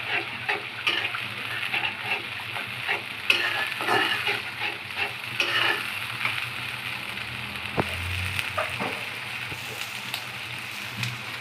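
Onions sizzle steadily in a hot pan, with a few sharper scrapes and clicks from stirring running through the continuous frying hiss.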